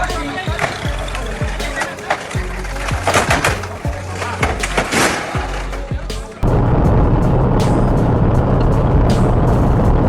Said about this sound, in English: That cold diesel truck is taking the ramp like an Olympic ski jumper.